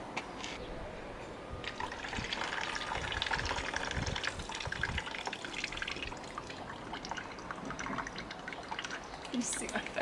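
Water drains steadily into a bowl in a kitchen while pesto is being prepared, a continuous splashing trickle that carries on throughout the clip.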